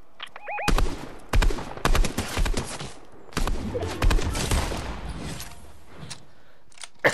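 Bursts of automatic gunfire in the Fortnite video game, several loud clusters of rapid shots separated by short pauses, close and sharp, with little talk.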